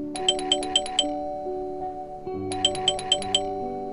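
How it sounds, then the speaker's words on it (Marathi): A doorbell chimes twice in a row, each a quick ding-dong tone pattern, with a pause between the two rings and a quiet room background. "अरे दोनदा बेल वाजवली,"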